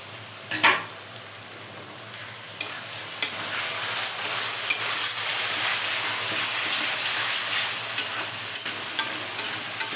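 Chicken sautéing in prepared masala in a pan: a brief clatter, then a close, continuous sizzle that swells and holds steady, broken by occasional stirring scrapes.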